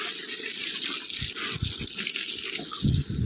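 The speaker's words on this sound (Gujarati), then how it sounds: "કુંડોમાં પાણી છોટવાનું ચાલુ છે અત્યારે" Water pours and splashes steadily, with a few low thumps as the stream hits containers close by.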